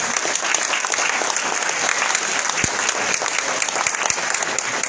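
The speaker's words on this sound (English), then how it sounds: "Yeah, go ahead and clap." Sustained applause from an audience at a campaign Christmas party, dense steady clapping at close range filling the whole stretch with no pauses.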